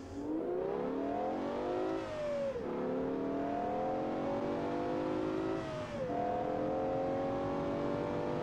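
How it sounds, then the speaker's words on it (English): A naturally aspirated 7.5-liter V12 car engine in the BeamNG driving game, revving loud and close with rising pitch sweeps, dipping briefly between gear changes before climbing again. "Man, this engine sounds so good."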